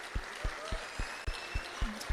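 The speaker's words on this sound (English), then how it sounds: "Let's give her a round of applause." Audience applauding at a national occupational health and safety conference, a faint steady patter of clapping with a few sharper thumps, quiet and distant.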